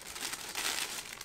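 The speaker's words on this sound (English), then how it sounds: "Tissue paper, plain black." Plain black double-layer tissue paper crinkles as an Air Jordan 3 sneaker box is unpacked: a brief, close, continuous rustle with no talking.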